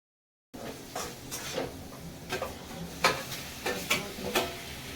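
Onions sizzle and fry in a pan for pav bhaji, with a steady frying hiss broken by repeated scraping stirs of a spatula, close and moderately loud, no talking.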